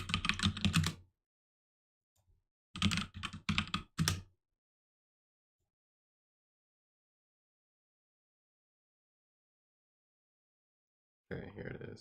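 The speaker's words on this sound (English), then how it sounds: "Keyboard clicks don't bother me." Computer keyboard typing in bursts of rapid clicks, with a short flurry, a pause, another longer run of keystrokes, then a long silence before a final burst; close and fairly quiet.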